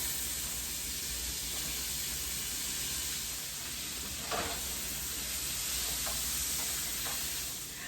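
About a tablespoon of butter sizzling in a hot pan, a steady close hiss with faint crackles and one small clatter partway through, no talking.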